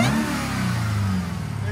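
A 2021 Jeep Trackhawk, supercharged, with a Borla Pro-XS exhaust revs loud and close in one sustained deep roar that sags slightly as it holds.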